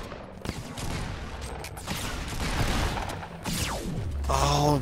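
Fortnite Battle Royale gunfire rattles in dense, continuous bursts throughout, loud and close, with mechanical clatter mixed in and a brief tonal game effect near the end.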